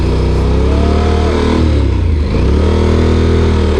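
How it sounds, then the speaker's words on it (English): A motorcycle engine revs hard and steadily during a burnout attempt on a wet rear tyre, loud and close throughout with a slight dip midway, no talking. "I was doing a burnout, but my tyre was wet."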